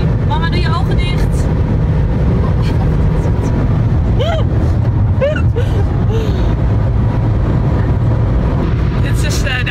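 Family car driving fast on a motorway, with a steady loud rumble of engine and road noise inside the cabin and people talking over it.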